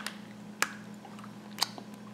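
Someone bites into crunchy milk chocolate candy, two sharp crisp crunches about a second apart, followed by quiet chewing, close to the mic.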